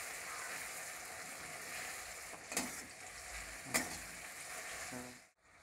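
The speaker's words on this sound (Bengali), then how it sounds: "এবার আদা রসুনটা আমি একটু নেড়ে চেড়ে ভেজে নেব" Ginger garlic paste stir-fries in oil in a pan for a Bengali rohu fish curry, giving a quiet, continuous crackling sizzle with two brief scraping stirs, before the sound cuts away near the end.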